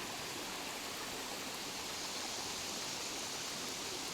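A mountain stream in the Visayas flows in a steady, even rush of water that stays constant and fairly soft throughout, with no voices.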